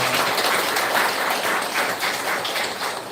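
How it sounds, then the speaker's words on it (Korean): A church congregation applauds together after a member is honored during a Sunday service, a dense, steady wash of clapping that fills the room for the whole three seconds and fades slightly at the end. "정순자 권사님 기억하고 칭찬과 축복의 박수 드리겠습니다."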